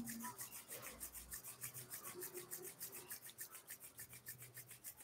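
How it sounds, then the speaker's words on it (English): Palms rub together briskly at the close of a yoga arm exercise, a steady rhythmic back-and-forth rasping of skin, faint but close, with no talking. "rub your palm"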